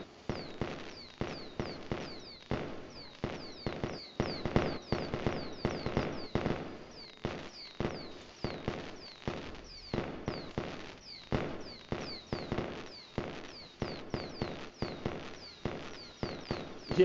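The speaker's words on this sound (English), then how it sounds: "Hope you guys enjoyed these fireworks too." Rapid, repeated firework bursts in Devil May Cry 5, a dense volley of sharp crackling pops at a steady brisk rhythm over about seventeen seconds, with no voices.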